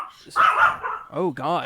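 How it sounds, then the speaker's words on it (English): A dog barks twice in quick succession close by, short sharp yips following a startled exclamation from a man. "That was my dog."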